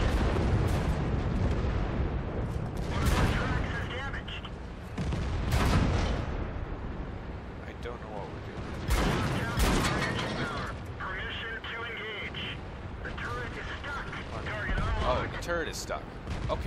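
A World of Tanks tank gun booms in several heavy, loud blasts spaced seconds apart, each followed by a rumbling decay, with engine and battle noise between and a voice talking over it.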